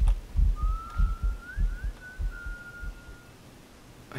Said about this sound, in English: How are you even whistling?